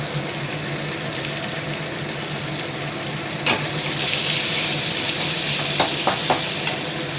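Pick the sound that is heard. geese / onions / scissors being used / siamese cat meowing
onions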